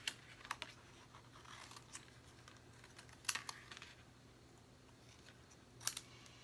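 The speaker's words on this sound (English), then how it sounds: "I'm just going to really quickly cut out this little leaf." Scissors cut out a small cardstock leaf: a few faint, sparse snips and light paper rustles spaced seconds apart in a quiet room.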